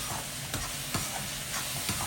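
Tomatoes sautéing in a pan for a garlic and curry leaf vatha kuzhambu, a steady soft sizzle with a few brief stirring scrapes at intervals, no voices.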